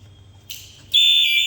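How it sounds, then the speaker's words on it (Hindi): An alarm buzzer goes off on a 132kV feeder control and relay panel, first a short burst of high tone, then a loud steady ringing tone that holds to the end over a low background hum. "अभी हम इसको टेस्ट करके दिखाते हैं आपको कैसे विंडो में अलार्म बजता है"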